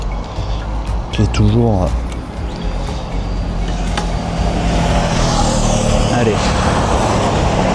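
Triumph motorcycle on a road in Thailand starting up and settling into a steady running rumble, loud and close, with someone speaking briefly over the engine at the start.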